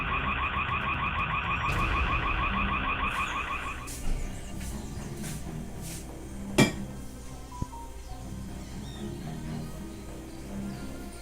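A shrill electronic alarm warbles rapidly for a few seconds, then cuts off, leaving a quiet room with a few soft knocks and clinks.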